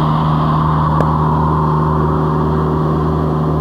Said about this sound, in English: As you can hear, the mower can handle it fine.